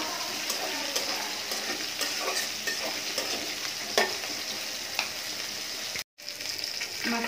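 Green chilies sizzle steadily in hot oil in a pan while a spatula scrapes and stirs with occasional taps, close and constant, with one brief gap near the end.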